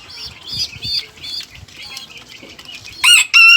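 Sebright bantams and other chickens clucking in a small backyard poultry yard, a run of high, busy calls that grows louder and sharper near the end.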